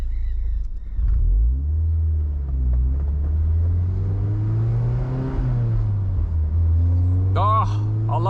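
A Mazda Miata NC convertible with a manual gearbox accelerates from inside the cabin, its engine rumbling and rising in pitch through a gear change. Someone talks over the engine noise.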